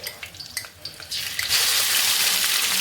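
Ginger and garlic hit hot oil already holding chilies and curry leaves for a beef Madras, with soft clinks and stirring first, then a loud, steady sizzle that rises after about a second and continues to the end.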